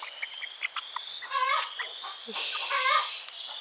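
A newly hatched chicken chick gives high, thin peeping calls in quick repeated bursts. The sound is close and fairly loud, with a steady high hiss running behind it.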